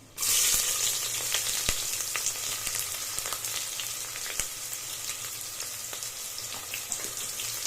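A medium-sized onion dropped into hot oil with fried spices for palak vegetable pulav, sizzling loudly and steadily throughout with light scraping and crackles, no voices.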